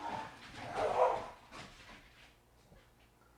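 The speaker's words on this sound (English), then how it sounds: "dogs are playing" Dogs playing let out a few barks and yips in quick succession, moderately close, which fade into quiet near the end.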